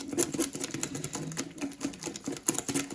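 Pancake batter being whisked in a bowl, a quick irregular series of clicking, tapping strokes against the sides, close and fairly quiet, with no talking.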